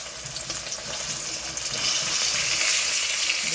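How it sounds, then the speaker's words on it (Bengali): Fish fries in hot oil in a wok with a loud, steady hiss and crackle, the spluttering swelling a little stronger partway through, close up and with no talk over it. "নাহলে আর মাছ কিন্তু ভীষণ ফোটে, বলার মতো নয়"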